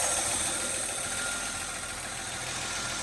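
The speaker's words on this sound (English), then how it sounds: "The original Thriftmaster 235, running very nice and smooth." A restored 1954 Chevrolet 3100 Thriftmaster pickup with its original 235 engine idles steadily, a smooth continuous mechanical hum heard close up with no talking.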